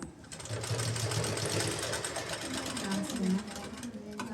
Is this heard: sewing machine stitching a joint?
yes